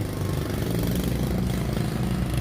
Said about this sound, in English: So guys, the bikes, the lawnmowers start to come around.